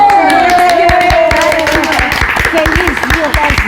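Audience clapping for mothers at a Mother's Day tribute, scattered claps under loud talk and voices that run through the whole stretch.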